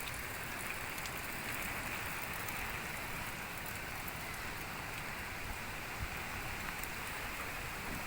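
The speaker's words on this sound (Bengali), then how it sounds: "বিরাট বৃষ্টি।" Heavy rain falls during a village storm as an even, loud, unbroken hiss of downpour, with no voices over it.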